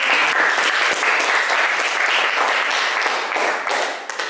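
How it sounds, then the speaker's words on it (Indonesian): Students in a classroom clap together, a loud, steady burst of many hands that holds for several seconds before easing slightly. "Iya, bagus sekali. Tepuk tangan dulu."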